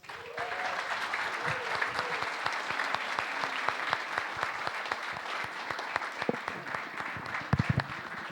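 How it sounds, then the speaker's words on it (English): Sustained applause from a crowd at a hackathon closing ceremony, steady and fairly even throughout, with some louder claps standing out near the end. "So a big round of applause."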